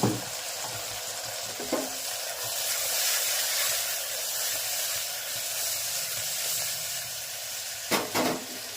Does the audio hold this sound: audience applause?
no